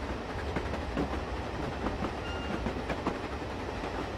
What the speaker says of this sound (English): I'm just struggling to get this train up a hill.